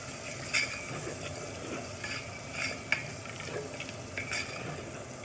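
Bacon sauteing in a pan as the base for green beans, a quiet, steady sizzle with occasional soft pops and scraping stirs, faint and without talk.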